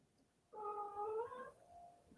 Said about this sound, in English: listen to the cats in the background